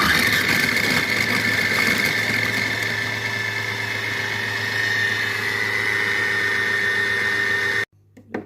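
A Compact Cook Pro multicooker mixing meatloaf at speed 5, a loud steady motor whir with a constant hum running for about eight seconds before cutting off abruptly, followed by a couple of faint clicks.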